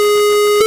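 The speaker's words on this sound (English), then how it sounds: "square wave," Square wave oscillator tone from FL Studio's 3X OSC synth, a loud, hollow buzzing note held steady at one pitch, alone with no talk.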